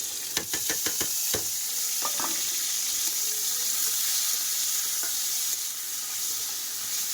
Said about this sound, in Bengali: এখন তেলেই রান্না করব, দিয়ে দেবো তেজপাতা